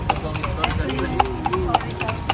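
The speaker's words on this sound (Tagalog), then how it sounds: "buti na lang may mga kabayo dito dagdag attraction" Horses' hooves clip-clop on the streets of Intramuros as they pull a kalesa, a horse-drawn carriage. The hoofbeats are steady, crisp and fairly close, with a voice talking underneath.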